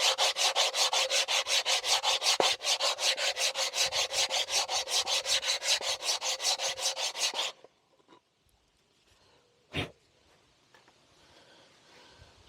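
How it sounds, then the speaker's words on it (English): Brake pads for an MG TF rubbed on a flat abrasive block: rapid back-and-forth scraping strokes for about seven seconds, then near silence with a few soft knocks and handling sounds. "So I'm just gonna rub the pads just to get rid of"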